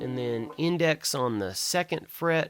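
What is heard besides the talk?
No everyday noise stands out behind the speech.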